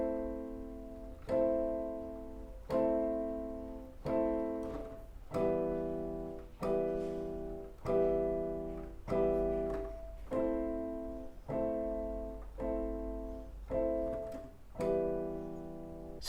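Somber piece of music in a minor key, repeating plucked or struck chords at a slow, regular pulse, each note decaying before the next, played alone without voices.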